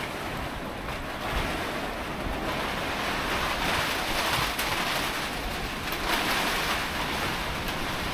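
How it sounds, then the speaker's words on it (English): Steady, loud roaring wind from Storm Eowyn with a constant broadband rush that swells slightly in gusts, no voices, sustained throughout. "listening to the wind roaring all around you"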